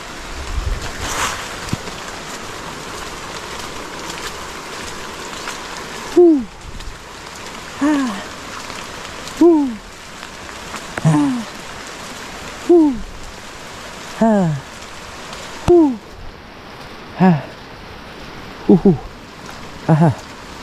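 Rain and rushing floodwater from an approaching typhoon make a steady broadband hiss throughout. Short, repeated hooting calls rise out of it roughly every second and a half.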